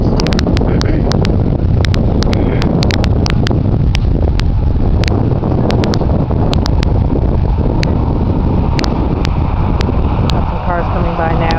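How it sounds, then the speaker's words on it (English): Road vehicles pass steadily in the background outdoors, a continuous rumbling traffic wash with wind buffeting the microphone throughout. "You can hear the background noise of the vehicles"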